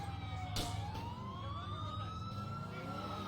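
Police siren wailing in the GTA video game during a chase, a rising electronic tone over a low engine rumble with a sharp thump early on.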